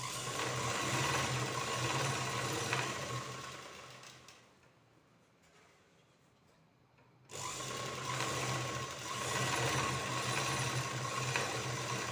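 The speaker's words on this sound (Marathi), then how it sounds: "आता आपण अस्तर आणि हा कपडा आधी स्टिच करून घेऊ" A sewing machine stitching lining to fabric, a steady close whirring run that stops for a few seconds of near silence and then starts up again, no talking.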